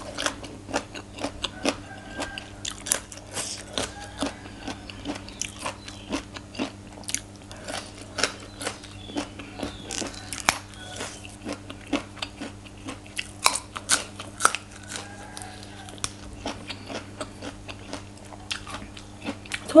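Fresh raw white shrimp eaten with som tam are chewed close up, giving a long run of crisp, crunchy bites and chews in a quick, uneven rhythm over a quiet background.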